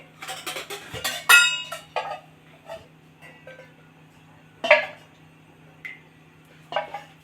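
Metal pots and utensils clank and clatter in a few separate bursts as a pot is set on a lit stove, over a steady low hum, with quiet pauses between the knocks.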